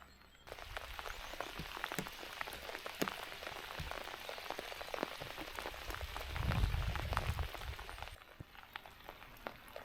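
Steady rain patters on water and nearby surfaces during spring fishing for barbel on the Meuse, a dense close hiss of drops with sharper individual taps, swelling briefly louder midway before easing.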